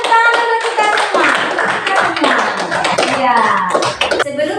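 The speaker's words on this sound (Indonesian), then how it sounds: "tepuk tangan dulu kita semua" Schoolchildren in an Indonesian classroom clap together at their teacher's prompt, a loud, busy patter of many hands with voices mixed in throughout.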